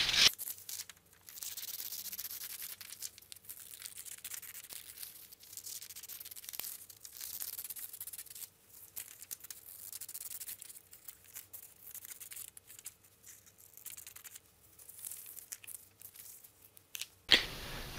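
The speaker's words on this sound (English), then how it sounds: "Please cut out on the solid black lines." Scissors cutting out a paper template for an altitude tracker, close by as a steady run of small snips and papery rustles, with a louder crinkle at the very end.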